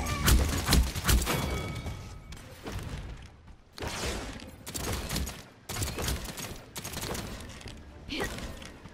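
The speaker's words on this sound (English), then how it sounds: "They're shooting at me!" Bursts of gunfire in Paladins crackle in several loud clusters separated by short gaps, with shattering and mechanical clatter mixed in.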